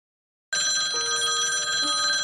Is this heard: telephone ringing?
yes